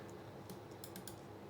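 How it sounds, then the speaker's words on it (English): A few quick keystrokes tap on a computer keyboard, faint and brief, heard over steady background hiss. "Let me type speakers up here and see what that gives me."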